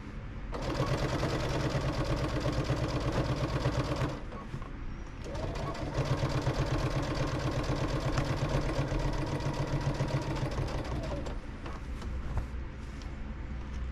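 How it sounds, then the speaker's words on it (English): A sewing machine runs steadily, stitching together the edges of a June Tailor shopping tote bag, with a dense mechanical hum that pauses briefly once before continuing close up. "Sew these edges together, making sure that they are even"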